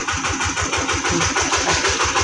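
A small engine on a rice husk blowing machine, used while pounding flattened rice, runs with a loud, steady, rapid chugging pulse throughout, with no voices.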